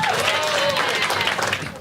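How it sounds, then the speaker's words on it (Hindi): A comedy-show audience breaks into a short burst of dense applause as a comedian's voice carries over it. "एक बार आना है के लिए ताली बजा सब लोग"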